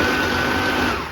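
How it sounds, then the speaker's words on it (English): Food processor grinding pizza crust ingredients including an egg, a steady loud whirring motor drone lasting the whole moment with no talk. "Now, here we go with the grinding."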